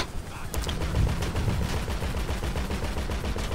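Rapid, rhythmic bursts of machine gun fire rattle close and loud during a video game attack on a military base. The firing pulses continuously for several seconds without any voices.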